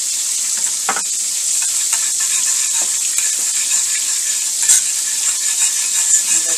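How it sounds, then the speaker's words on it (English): Butter and Nestle creamer heat in a pan for a chicken-fried-steak gravy, giving a continuous bright hiss and bubbling sizzle with occasional utensil clinks, close up and without speech. "And let this heat and simmer."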